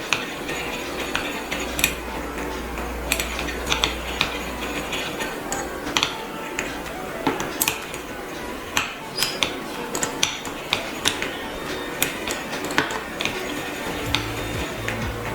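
A spoon stirs a homemade reed diffuser aromatherapy mixture in a glass container, making a steady run of light, close clinks and ticks throughout, fairly quiet, with no talking.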